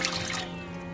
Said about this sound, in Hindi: 2 कप्स ऑफ वाटर मैं ऐड कर रही हूँ.